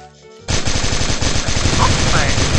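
Rapid automatic rifle fire from a KAC Red Bandage in a zombie-hunting match of the mobile shooter CrossFire Legends, a dense burst of loud, close gunshots running continuously for a couple of seconds.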